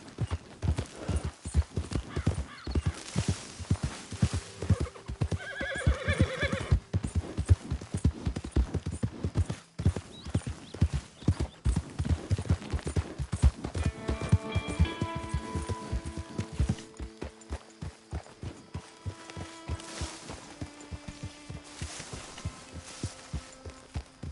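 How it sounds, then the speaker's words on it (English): A horse in the Red Dead Redemption II video game clip-clops with steady, rhythmic hoofbeats at a trot, with a few drawn-out whinnies rising near the middle and toward the end. "get that horse out of here"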